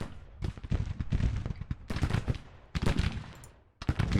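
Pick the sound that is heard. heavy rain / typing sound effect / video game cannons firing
video game cannons firing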